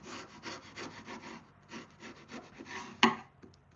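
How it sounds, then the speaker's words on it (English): Sandpaper rubs back and forth over wooden egg holders in a steady rhythmic rasp, close up, ending with a sharp knock of wood. "I'm going to come through with the sandpaper and really clean that up"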